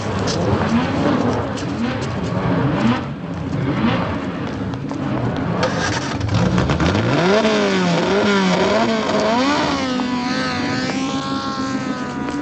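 Several race car engines warming up at a track, a dense layered rumble with revs rising and falling, one engine climbing in sweeping pitch toward the end, loud and close without voices.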